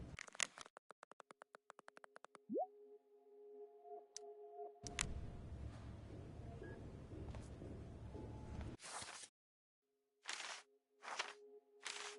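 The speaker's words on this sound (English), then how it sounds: "Just heard the phone." A telephone in the video game Life is Strange: Before the Storm, heard as rapid ticking clicks, a steady electronic tone, a burst of static hiss, then repeated short ringing bursts with gaps between them, fairly loud with no talking.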